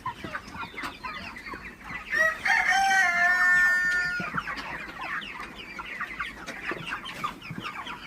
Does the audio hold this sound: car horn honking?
no